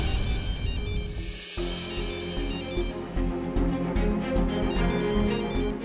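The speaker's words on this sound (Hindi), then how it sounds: "देखिए किसी का फोन बज रहा है" A mobile phone ringtone plays at night inside a house, a loud repeating melodic ring over a steady musical backing, with a short break after the first second before the ringing carries on to the end.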